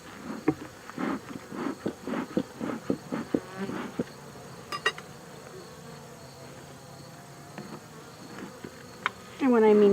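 Honey bees drone around a beehive, a close buzzing hum with repeated soft taps and knocks as the hive is handled, ending in a louder burst of noise.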